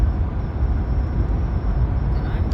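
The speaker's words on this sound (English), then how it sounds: "What's that fucking whistling noise?" A thin, steady high-pitched whistle of wind runs over the low, rumbling drone of a car moving along the road.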